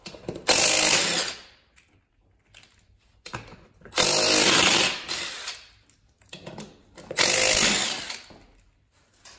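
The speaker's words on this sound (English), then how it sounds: "17 millimeter lug nuts. Take 4 of them off." An impact wrench or power tool spins 17 mm lug nuts off the wheel of a Yamaha Grizzly 550/660/700 ATV, three loud buzzing bursts of about a second each, separated by quieter gaps.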